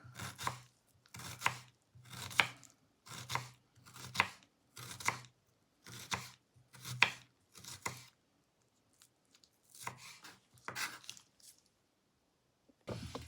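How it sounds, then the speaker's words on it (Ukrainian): A knife finely chops onion on a board for a beetroot salad. There are about nine evenly spaced, close chopping strokes, a short pause, then a few more cuts. "І дрібненько кришимо."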